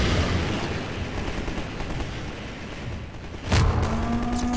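Enemies fire on the player in Half-Life 2 with a run of gunfire: dense, rattling shots under a noisy battle din, then a sharp loud blast near the end followed by ringing tones.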